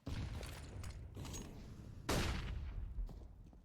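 Rifle fire in a Counter-Strike match, several sharp shots in quick succession, with one loud close blast near the end followed by a decaying tail.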